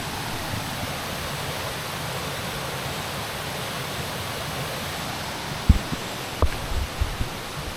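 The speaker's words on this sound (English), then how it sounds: "of the roaring brook stream? It is." Roaring Brook rushing along Chimney Pond Trail in Baxter State Park, Maine, a steady, dense broadband water roar filling the scene, with a few soft knocks and footstep-like thumps near the end.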